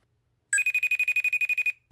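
An outgoing phone call rings on a handset as a rapid, warbling electronic trill that repeats about a dozen pulses in just over a second, loud and close, then stops.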